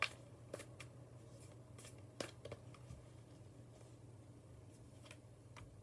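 A deck of cards being shuffled to draw one, soft quiet riffles and flicks close by over a faint steady hum.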